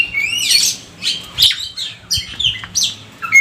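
An oriental magpie-robin (kacer) sings up close in bright, repeated bursts of whistles and chirps, with short pauses between phrases.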